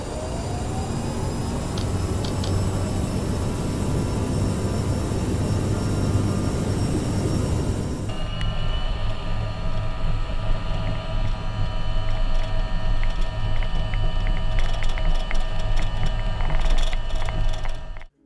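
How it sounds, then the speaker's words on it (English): Loud, steady roar and whine of a CRJ jet airliner's engines building through a takeoff roll in a flight simulator game, with a rumbling drone and rattling mechanical texture. "An easy way to hear this is in the takeoff roll."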